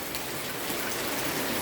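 Steady rain falling on a rainy-season day, a dense, continuous patter and hiss of drops on surfaces, close and even throughout with no voices.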